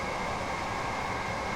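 A Southern Class 377/4 Electrostar eight-car electric train in Train Sim World on the East Coastway makes a steady, close rolling rumble with a faint hiss, heard alone for a brief moment.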